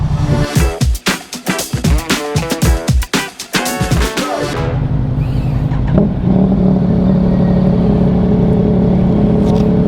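Yamaha MT-07 motorcycle riding through traffic. A loud, close engine revs in a burst of rapid pulses during the first four seconds, then settles into a steady, droning cruise with wind and road rumble.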